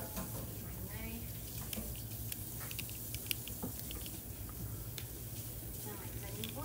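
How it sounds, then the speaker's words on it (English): A kitchen knife rinsed under a running tap at a sink while mini pizzas are being prepared; the close water flow is steady from start to finish, with light clinks and a voice speaking over it. "Go ahead and wash"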